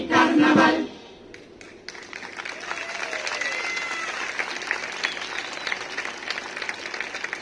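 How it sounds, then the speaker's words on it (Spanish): A carnival crowd applauding a performance, a dense wash of clapping and cheering that swells after a short loud voice at the start, building and holding steady with some whistles, heard from within the audience. "aplauso"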